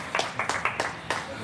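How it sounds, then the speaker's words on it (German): Clapping inside a café, a few sharp, close claps in an irregular rhythm, with light background chatter. "Ah, du kriegst Applaus."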